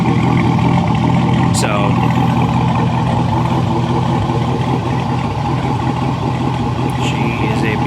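A 2014 Camaro SS 1LE V8 idles at a stoplight with a deep, steady burbling exhaust rumble, loud and close, with a brief spoken word near the start.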